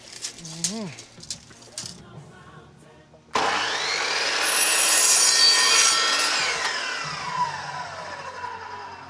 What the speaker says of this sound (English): we have a compound miter saw